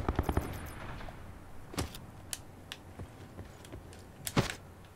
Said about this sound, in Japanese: もうやり合ってる音がちゃんと聞こ える